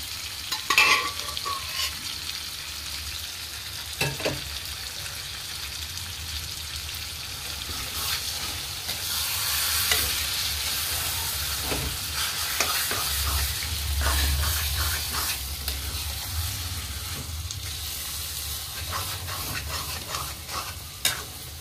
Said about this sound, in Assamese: দালিখিনি মই পানীৰ পৰা উঠাই মাংসৰ লগত ভাজিম দেই।